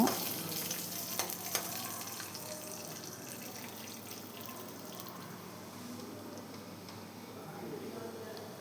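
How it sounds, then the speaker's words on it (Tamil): Chana dal, pepper, cumin, fenugreek and dried red chillies frying together with lentils for curry leaf rice, a steady sizzle with scraping stirs running under a quiet voice throughout. "கடலைப்பருப்பு மிளகு சீரகம் வெந்தயம் காஞ்ச மிளகா போட்டு கொஞ்சம் கலர் செஞ்சோடனே நம்ம வந்து பாசிப்பயிறு துவரம்பயிறு உளுந்து எல்லாத்தையும் சேர்த்து நம்ம ஃப்ரை பண்ணலாம்"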